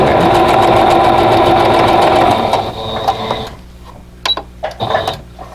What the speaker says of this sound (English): I'm going to sew just to the outside of those